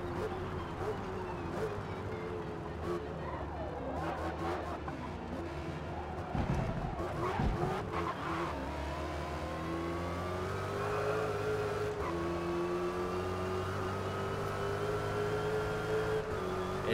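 A V8 Dodge Hellcat races in Forza Motorsport, its engine droning and climbing in pitch through repeated gear changes, with someone talking briefly over the steady, loud game car sound.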